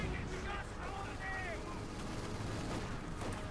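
Muffled mortar and artillery fire in a Company of Heroes 2 battle between a British emplacement and German forces, distant booms rumbling under steady battlefield noise while a voice talks over it.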